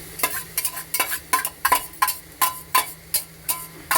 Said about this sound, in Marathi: मी आता ही डाळ याच्यामध्ये टाकून घेते तुपामध्ये